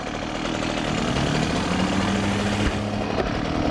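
An engine on equipment in a bee-attack setting runs steadily after being cranked back up, a loud, constant mid-pitched drone that holds for the whole stretch.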